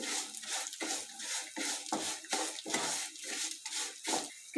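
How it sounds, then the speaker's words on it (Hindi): Vermicelli (sawaiyan) being added to a pan and lightly fried while a utensil scrapes and stirs. Repeated rhythmic metallic scraping strokes sound close and clear, with no talking. "अब इसके अंदर मैं सवैयाँ डाल रही हूँ। सवैयों को थोड़ी देर में हल्का सा फ्राई करूँगी।"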